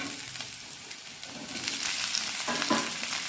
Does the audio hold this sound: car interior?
no